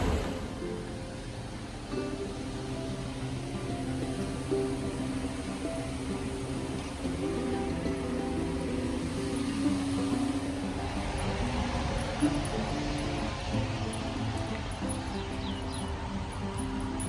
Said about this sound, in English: Street cleaners in the car park there and a Sainsbury's lorry delivering, drowning out the sound of the lovely birds.